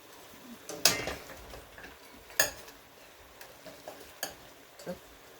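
Jamaican oxtail browning in a pot while being stirred, with a few sharp clanks of a spoon against the metal at irregular intervals over a soft sizzling background.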